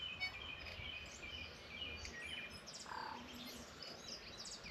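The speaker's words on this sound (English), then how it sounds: "This is a tui." A tui calls at sunrise on a New Zealand summer solstice morning, with a few faint, scattered chirps and whistles over quiet outdoor background noise.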